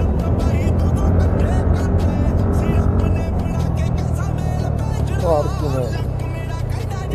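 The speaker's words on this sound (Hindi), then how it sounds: "देखो गाड़ी आगे से कैसे आ रही है रॉन्ग" A car drives toward a scooter from the wrong side of a one-way road, its engine and tyre noise a steady, loud roar mixed with wind rush as it approaches. Someone speaks over it in Hindi.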